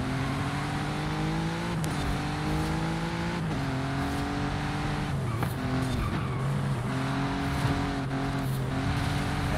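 An Audi RS5 on slick tires drifting in Forza Horizon 5: a loud, continuous engine drone with shifting pitch and repeated tire squeals as the car slides, with no talk.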